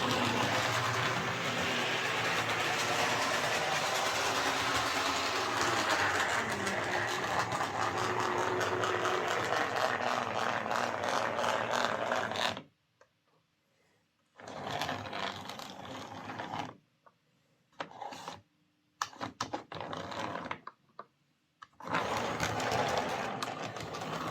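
A Tri-ang Class 31 model locomotive's motor whirring roughly, buzzing steadily for a while, then cutting out and restarting in stuttering stop-start bursts, close and mechanical.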